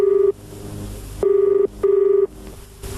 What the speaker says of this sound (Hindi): आपका फोन है सर, घर से, अर्जेंट जी